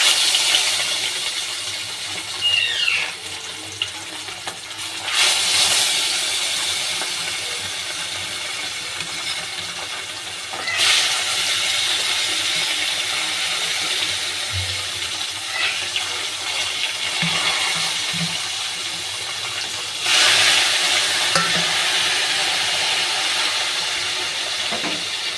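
Featherback fish pieces dropped one by one into hot oil, giving a steady broad hiss of frying with bursts of louder sizzle as each piece goes in, close and continuous with no talking.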